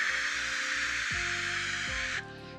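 A voice imitates white noise with a steady breathy hiss, loud and continuous, while a low hum shifts in pitch underneath, ending with a sudden drop in level.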